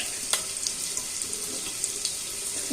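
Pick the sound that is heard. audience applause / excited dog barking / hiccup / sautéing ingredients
sautéing ingredients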